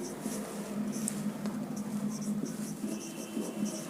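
Chalk or a marker scratches across a board during a Hindi-language chemistry lecture, a steady scraping of writing strokes heard close, with a soft hum of the room behind it.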